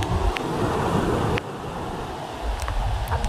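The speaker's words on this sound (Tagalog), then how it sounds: "Sige, may alon yan." Sea waves wash and surge near a shoreline in rough, windy conditions, a continuous broad roar with wind buffeting the microphone and a sudden drop in level partway through.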